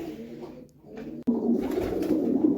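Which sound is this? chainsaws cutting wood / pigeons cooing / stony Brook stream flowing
pigeons cooing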